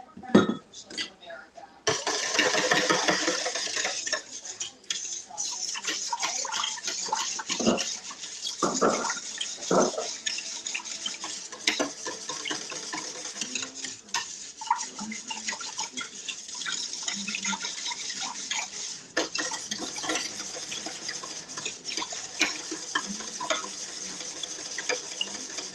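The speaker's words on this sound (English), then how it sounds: "I'm getting the whisk." A whisk clinks and scrapes steadily around a bowl in a home kitchen, with rapid rhythmic metallic taps, running water and a voice talking intermittently over it.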